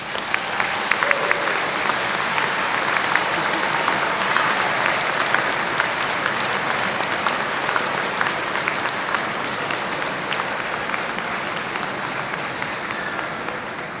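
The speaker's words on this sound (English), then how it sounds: "I want you to give them a big standing round of applause." Sustained standing ovation from a large commencement crowd honoring faculty, dense steady applause filling the hall for the full stretch, loud and even with faint cheers mixed in.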